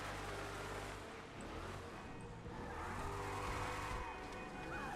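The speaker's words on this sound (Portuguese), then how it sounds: "Vamos dar um rolezinho com esse carro épico." A fast, epic car from the Fast and Furious collection drives around Los Santos in the video game GTA 5, its engine a steady, busy roar with rising revs and road noise filling the whole stretch.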